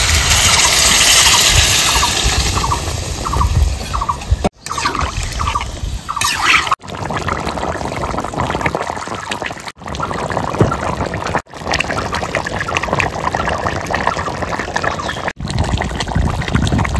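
Water being poured into mutton curry as it cooks in a pan, a steady loud gushing pour with bubbling, interrupted by a few brief gaps.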